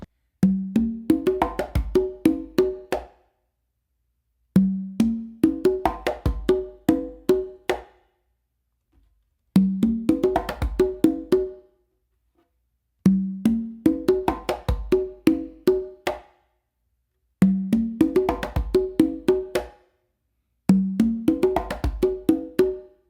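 Requinto hand drum played in six repeated phrases separated by short pauses, each a quick run of open tones ending in sharp accented slaps.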